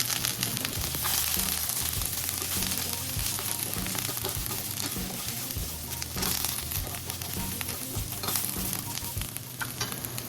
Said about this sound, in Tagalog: pwede na po natin ilagay yung ating pork belly na pinirito kanina. Isama na po natin dito sa ating mga aromatic